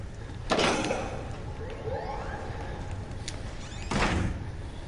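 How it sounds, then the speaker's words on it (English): A door in a survival video game, heard as two loud broadband bursts about three seconds apart, each with a sharp onset fading over half a second, above a steady rumbling background and faint tonal sweeps, with no talk. "That door wasn't even closed."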